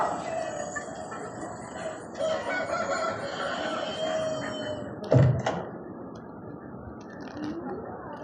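Chickens cluck and a rooster crows amid busy farmyard background noise, with a brief knock partway through.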